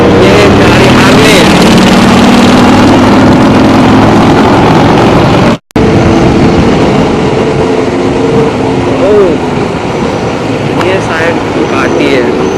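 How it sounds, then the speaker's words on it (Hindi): A Ducati superbike engine roars loudly close by on the road during a Sunday superbike group ride from Indore to Dhar. Revs rise and fall over constant wind noise, and the sound cuts out briefly midway. "दुकाटी है, जैसा कि आप सब देख सकते हो। हमारे बीच दुकाटी महोत्सव भी है, बड़ी प्यारी लग रही है ये। बूम बूम बूम एक पटाखे।"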